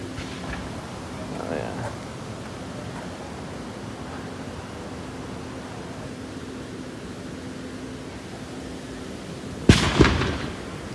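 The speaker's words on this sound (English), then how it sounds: "Shooting some damn cannons or some shit." Cannons firing in the distance outdoors in Frankenmuth near a bridge: a single sharp, booming report with a quick echo near the end, over steady open-air hiss and low background murmur.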